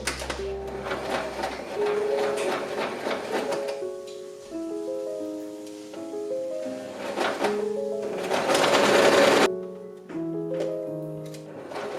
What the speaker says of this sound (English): start sewing exactly where you left off at the V to avoid having a gap in the neckline